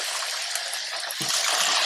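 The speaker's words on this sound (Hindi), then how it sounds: "बीच में आप डालेंगे पानी।" Water pours into a pot of soaked rice, a continuous gushing splash that grows fuller and heavier partway through, close and fairly loud with no talking.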